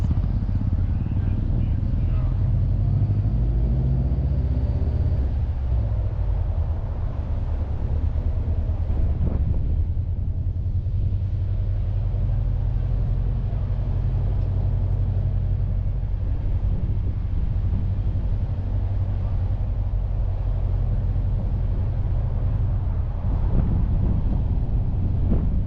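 A car rolls along O'Mara Crescent, a quiet residential street in Richmond Park, Kingston, Jamaica, its steady low engine and road rumble close and continuous, with wind buffeting the microphone throughout.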